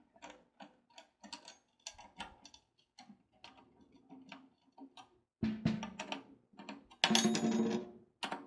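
Drum key turning the tension rods on a snare drum's top head, giving a string of small ratcheting clicks in uneven bursts, close and fairly quiet, growing denser and louder toward the end.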